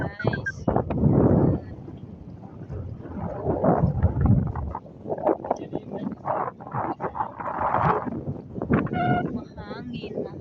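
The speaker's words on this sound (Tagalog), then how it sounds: "Grabe ang hangin, guys." Strong wind buffeting the microphone outdoors at Kuwait Tower, rumbling in uneven gusts while people talk through it.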